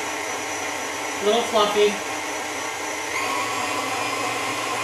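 A KitchenAid stand mixer beats cookie dough at medium speed, a steady motor whir with a brief spoken phrase over it midway.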